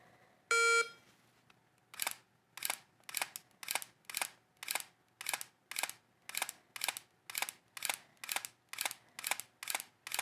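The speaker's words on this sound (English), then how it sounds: "You'll get a beep here in just a second." A single sharp electronic shot timer beep, followed by a rapid, evenly spaced series of snappy gunshot cracks, about fifteen in a steady rhythm.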